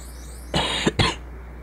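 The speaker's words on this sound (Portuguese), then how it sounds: "Ai, tosse." Two quick, close coughs in succession over a quiet steady hum, during Diddy Kong Racing gameplay.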